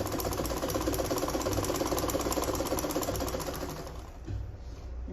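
A sewing machine runs a continuous, steady stitching whir while hemming a small 1/4-inch fold on a sleeveless gown, then slows and fades near the end, with no voices.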